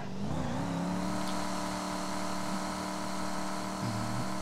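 A diesel truck accelerating hard on a drag strip pass in GTA 5, heard as a steady droning engine whose pitch climbs through a gear shift near the start and then again near the end, loud and continuous with no talk.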